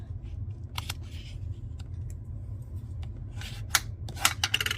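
Stampin' Up! cardstock being creased and folded by hand into a Z-fold bridge card, with soft papery rustles and a few crisp, sharp scrapes near the end over a low steady room hum.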